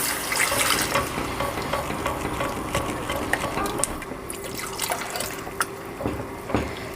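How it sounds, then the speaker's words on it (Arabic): Milk trickles and splashes into a butter and flour roux in a pan, a wet, uneven pouring sound with small drips and stirring clinks, close and fairly quiet. "بعد كده هنجيب بقى اللبن وننزل ايه شويه بشويه"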